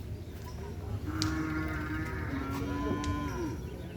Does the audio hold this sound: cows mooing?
yes